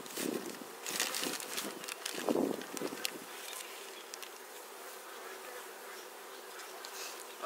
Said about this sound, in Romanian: Albina e blândă, atât doar că ține cam răcoare și nu prea îmblă